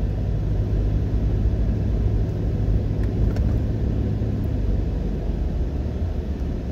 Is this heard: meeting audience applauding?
no